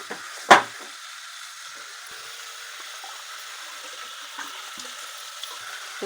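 Goat mutton curry fries in a pan, a soft steady sizzle running throughout, with one sharp knock of the stirring spoon near the start and faint scraping as it is mixed.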